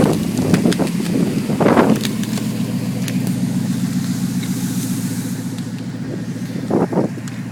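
A Ford 5.4 engine idles after a cold start on an icy street, a steady low rumble close by, with a few brief louder bursts of noise over it.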